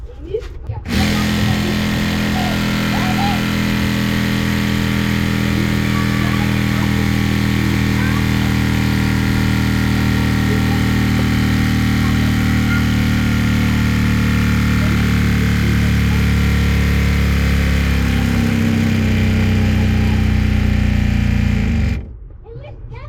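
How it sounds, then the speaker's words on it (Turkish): Hydrophore water pump in a caravan running in a steady, loud mechanical hum, starting abruptly and cutting off after about twenty seconds. "Hadi bakalım hidroforu açalım"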